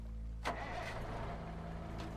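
A vehicle engine cranks and catches with a sharp burst, then settles into a steady low idle, close by with no voices.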